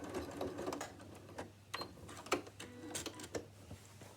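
A sewing machine back stitches over the same stretch of a tote bag's top edge, giving quiet, uneven bursts of rapid needle clatter with short pauses between them and no voices.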